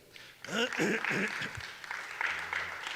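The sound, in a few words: congregation applause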